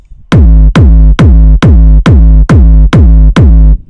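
Eight heavy, booming trance kick drums fattened with the Sausage Fattener plugin, each with a punchy attack and long sustained low body, hitting in a steady loud four-on-the-floor pulse with no talking.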